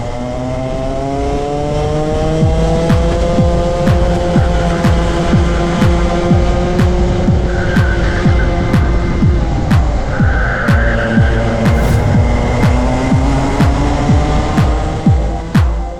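Club100 racing kart engine at Ellough Park, close and loud, buzzing at high revs with rapid rhythmic pulsing, pitch dipping and climbing through the corners as it chases a pack, tyres briefly squealing.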